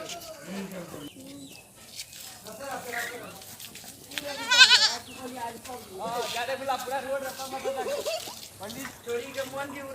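Goat bleating in a rural Maithili comedy scene, wavering nasal bleats that rise and fall over several seconds, mixed with other animal and vocal sounds.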